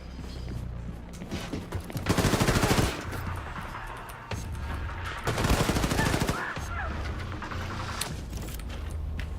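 Automatic gunfire in the shooter game Akimbot, fired in two long rattling bursts until the magazine runs dry, loud and close, separated by quieter ambient game noise with scattered clicks.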